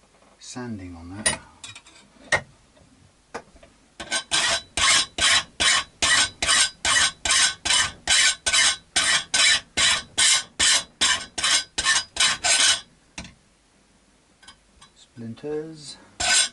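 Wood on a guitar bridge part, a Charvel bridge being fixed, is sanded in a fast run of about twenty even back-and-forth rasping strokes, close and crisp, with brief speech before and after.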